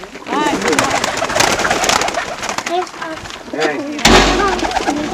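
Kosovo pigeons coo repeatedly in soft, rolling calls over a busy background of nearby chatter and rustling, with a sharp thump partway through.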